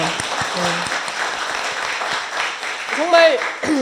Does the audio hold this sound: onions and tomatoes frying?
no